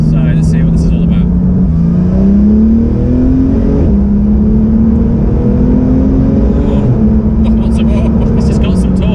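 Porsche 991 GT3 with a naturally aspirated engine pulls hard through the gears, a steady rising engine note stepping up at each shift, heard from inside the car with people talking over it.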